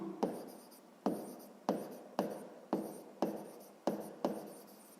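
Chalk or pen strokes writing numbers by hand for a math exercise, seven distinct scratchy bursts in a steady rhythm, close and clear with no talking.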